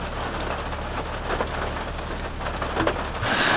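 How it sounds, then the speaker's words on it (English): Heavy rain pours steadily on a Toyota Sequoia during winter truck camping, a dense close wash of drops drumming on surfaces, growing louder near the end. "it is raining so hard now"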